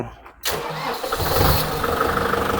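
A 2020 Kubota MU5702 tractor's diesel engine cranks briefly, then catches and settles into a steady, mid-pitched idle close by, with no talking.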